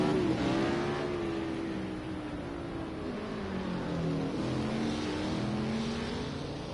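Racing car engines in a German Grand Prix race within a simulated racing league roar and rev steadily, with several pitch sweeps as cars accelerate off a congested stretch of track, loud and continuous throughout.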